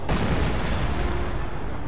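Anti-tank gun in the Company of Heroes video game firing a single loud, booming blast whose rumble lingers and decays over about two seconds.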